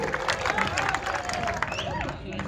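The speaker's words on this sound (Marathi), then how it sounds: "टाळ्या वाजवा" Crowd applauding and cheering at an outdoor wrestling bout, with steady dense clapping and babble filling the whole moment, loud and close, mixed with voices.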